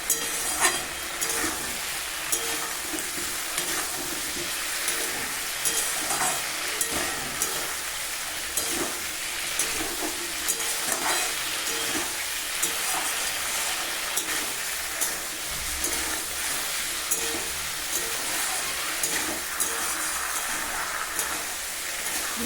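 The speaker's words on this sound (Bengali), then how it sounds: "ভালোভাবে নেড়ে চেড়ে নিতে হবে, নিয়ে যেন মশলাগুলো এই বড়াগুলোর মধ্যে ঢুকে যায়। ভালো করে কষিয়ে নিতে হবে।" Chana dal dhoka cakes being sautéed and stirred with spices in a pan, giving a steady, close hiss of frying with intermittent scraping and stirring clatter throughout, no voices.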